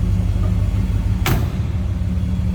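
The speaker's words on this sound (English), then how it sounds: "Door closes nicely." A single sharp car door slam on a 1967 Buick GS 400, close by, cutting through the steady low idle of its 455 engine.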